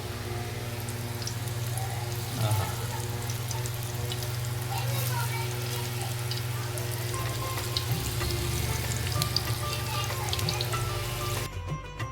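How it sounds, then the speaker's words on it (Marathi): Bombil and kupa fish frying in hot oil on a pan give off a steady, close sizzle with crackling spatter that carries on throughout, over a low background hum. "आणि आता मच्छी फ्राय आपण चालू करूया"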